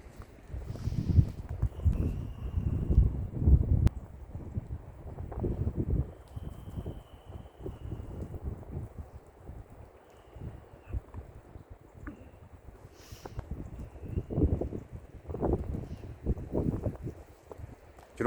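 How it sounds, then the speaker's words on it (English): Gusty wind in the snowy Scottish Highlands in winter buffets the microphone in rumbling bursts throughout, rising and falling, with faint footsteps and brief voices in the background. "It's awfully windy."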